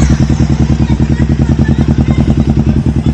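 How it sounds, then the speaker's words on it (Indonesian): A Kawasaki Ninja 250 FI motorcycle fitted with a Pro Speed aftermarket exhaust idles loudly up close, a rapid, even throbbing pulse that holds steady without big revs throughout. "Kita cek sound gimana nih gaharnya Ninja 250 FI pakai knalpot Pro Speed."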